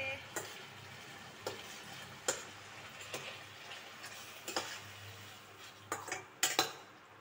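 Eggs going into a frying pan while cooking egg biryani, with scattered light clinks and taps of a utensil against the pan over a soft background sizzle, the sharp knocks spaced irregularly and clustering near the end.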